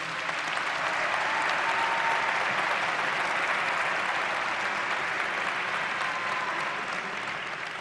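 An audience at the American Business Forum 2021 applauds, with sustained, dense clapping from a large crowd at a steady level throughout and no talk over it.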